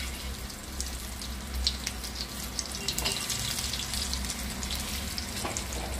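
Eggplant slices fry in a pan for a spiced, fish-style dish, giving a steady dense sizzle with occasional brighter crackles and spits, close and continuous throughout with no one talking.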